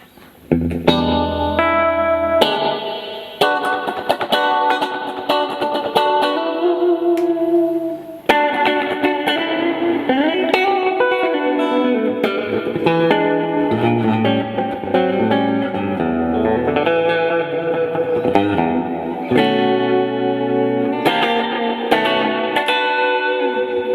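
An electric guitar played through a Catalinbread Adineko delay pedal with a second echo added, giving sustained, layered, textured notes with repeating echoes throughout, loud and close with no talking.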